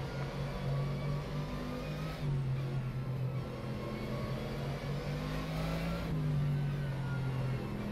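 Race car engine of an ACR Zakspeed Mercedes in rFactor 2, driven at night, holding a steady loud drone across gear changes, with two rising revs near the start and end and no voices.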